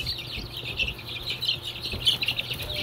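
Young chickens peep and cluck steadily at close range, a busy chatter of high chirps with no talking.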